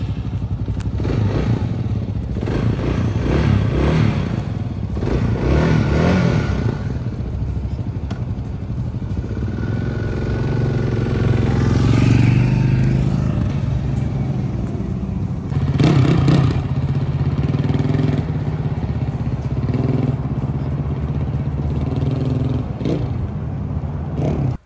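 A KTM 890 motorcycle on a test ride, its engine droning steadily and loud throughout with wind rush and shifts in revs, no voices.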